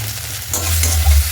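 Dried red chilies dropped into ginger, cumin and coriander spice paste frying in a pan for khichuri, a brief close burst of sizzling with a stirring scrape.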